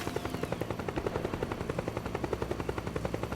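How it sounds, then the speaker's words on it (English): Helicopter in Metal Gear Solid 4 video game: a steady, rapid rotor thump pulses evenly throughout, loud and close, with a dense mechanical roar underneath and no voices. "I'm totally going to take out that chopper."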